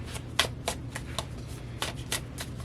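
Tarot cards are shuffled by hand up close, in a quick series of crisp riffling bursts and soft slaps with short pauses between them.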